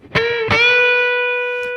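Distorted electric guitar played on the neck pickup, two picked attacks followed by a bent note that rises and sustains thick and loud before a final faint pick.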